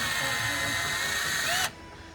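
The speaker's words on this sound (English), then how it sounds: "So you take the supplied screws and kind of just, I have power tools, makes my life easier." A power drill driving supplied screws into the front platform of a Freemotion treadmill, one steady close whine held for most of the moment before it abruptly cuts off.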